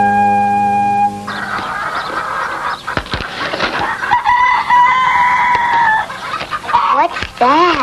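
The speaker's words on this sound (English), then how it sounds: "But what's he squawking about? Crowing." A rooster crows loudly nearby, its strained, wavering calls repeating amid other farmyard noise.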